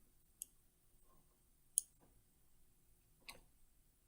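Three faint, sharp computer mouse clicks spaced roughly evenly apart, close and isolated against near silence, with no talking.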